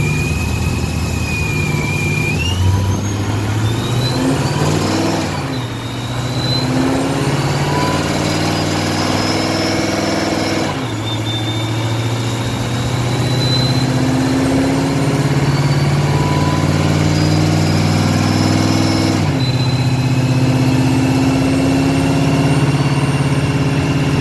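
A supercharged Ford GT500 engine, auto-swapped, holds a steady, droning rev at high RPM during a dyno tune, with two brief dips where the throttle lifts before climbing back to a sustained high-pitched whine.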